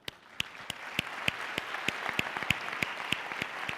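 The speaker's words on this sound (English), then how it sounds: "I hope you all agree that they deserve a very big clap of hands." Steady applause from an audience at a forum closing session, sharp individual claps standing out in an even rhythm, moderately close and sustained throughout.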